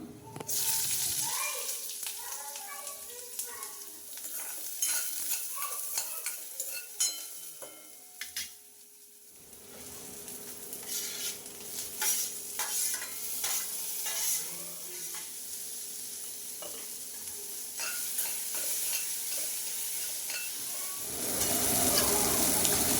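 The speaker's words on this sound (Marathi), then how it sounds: "कढईमध्ये थोडंसं तेल गरम केलं आणि त्यामध्ये मोहरी आणि जिरं परतून घेतलं आणि नंतर त्यामध्ये थोडंसं लसूण, कांदा आणि टोमॅटो घालून" Mustard seeds, cumin, garlic, onion and tomato sizzle and crackle in hot oil in a kadhai, with occasional stirring scrapes and clinks, a steady close sizzle that drops briefly before picking up again.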